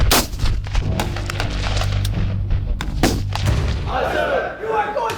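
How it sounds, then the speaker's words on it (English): Rifle fire during Marine Corps marksmanship training, repeated loud sharp shots cracking over a constant low rumble, with background voices near the end. "What it is to sit behind a rifle, look down that barrel, and be able to put lead on target."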